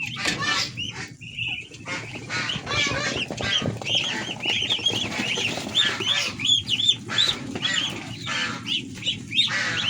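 A flock of about fifty young goslings just let loose chatter in busy overlapping peeps and calls at close range, with brief bursts of noise mixed in.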